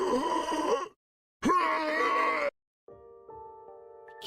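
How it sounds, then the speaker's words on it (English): Kurata, a character in The Hundred Line, lets out anguished death screams and wet gurgling groans in two close, loud bursts of strained voice, then a sustained tonal drone follows. "I don't like hearing Kurata's death screams. Death gurgles."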